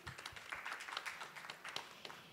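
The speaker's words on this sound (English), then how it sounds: "A round of applause for her" An audience at an education conference panel applauds for a speaker, a brisk scatter of many hands clapping at moderate distance for a couple of seconds.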